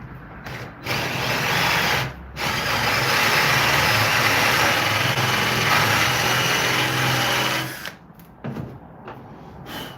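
Power drill running a bit into a cabinet board to bore a hinge hole, sounding as a sustained, fairly loud whirring drone with a short break near the start and stopping toward the end, followed by faint handling noises.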